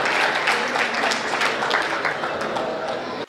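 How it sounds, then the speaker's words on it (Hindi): A crowd at a Hindi comic poetry gathering breaks into loud, dense clapping for a poet, close and sustained before cutting off sharply at the end. "एक बार जोरदार तालियां आप बजाए हेमंत की"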